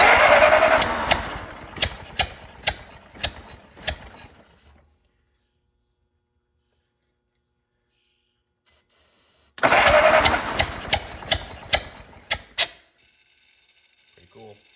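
A 104-year-old Ford Model T engine cranks and fires in two loud bursts, uneven popping combustion beats over a whirring starter, each stopping abruptly, with a quiet gap between them.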